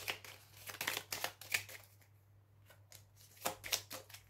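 Tarot cards shuffled close up in quick riffling bursts, a short pause in the middle before another flurry, soft and near with no talk.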